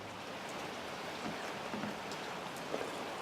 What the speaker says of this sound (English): Well, I got rained out today,